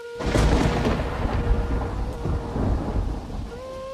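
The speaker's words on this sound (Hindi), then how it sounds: "अचानक बिजली चमकी और कुछ ही पलों बाद तेज बारिश शुरू हो गई।" Heavy rain pours steadily while thunder rumbles loudly and rolls on, close and dense throughout.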